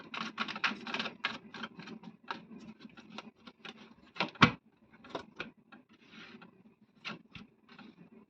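Tarot cards are shuffled close by in quick, soft riffling bursts and taps, irregular and fairly quiet, with no talking.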